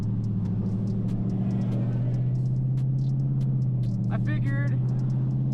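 A Saleen Mustang with a Coyote V8 engine cruises along, its low, steady exhaust drone rumbling continuously beneath someone talking, with a brief rising rev near the end.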